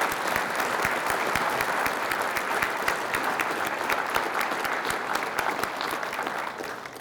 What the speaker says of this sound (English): Please join me in the applause.